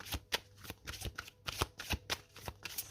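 Oracle cards are shuffled in soft, uneven bursts of riffling and slapping, close and quiet, with no voice over them.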